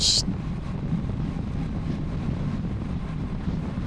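Steady, loud buffeting wind roar from a motorbike cruising down the motorway, constant and broadband throughout with a low rumble underneath and no clear engine note standing out.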